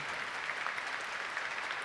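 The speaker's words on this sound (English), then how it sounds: "can we clap our hands?" A church congregation claps together in a steady, dense wash of applause that sounds fairly soft and slightly distant, holding evenly without any voices over it.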